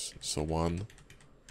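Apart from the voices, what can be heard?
computer keyboard keys being pressed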